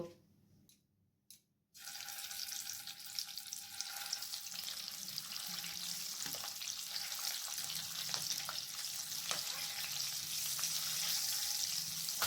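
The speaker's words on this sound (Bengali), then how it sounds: "তেল গরম হয়ে এসছে, এরপর ডিমগুলোকে হালকা ফ্রাই করে নেব।" Steady hissing sizzle of duck eggs frying in hot oil, continuous and fairly loud after a brief quiet start, with a few faint clinks.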